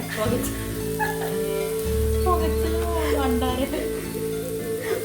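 Chicken pieces fry in oil for biryani, a continuous sizzle running the whole time beneath a steady low hum, with a voice speaking over part of it.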